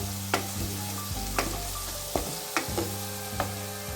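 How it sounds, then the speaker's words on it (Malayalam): Spice powders fry in a pan for bread egg masala while a spoon stirs them, a soft sizzle under a handful of distinct scraping knocks spaced irregularly, close and fairly quiet. "ഇത് നമുക്കൊന്ന് ഇളക്കിയെടുക്കാം"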